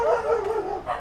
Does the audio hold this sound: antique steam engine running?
no